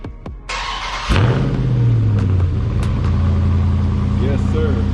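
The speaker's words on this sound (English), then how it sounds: "I can't deny y'all the fact of getting that cold start on the car" A 2022 Dodge Charger Scat Pack Widebody on its stock exhaust fires up from cold with a sharp starter crank and a loud bark, then settles into a deep, steady rumbling idle close by.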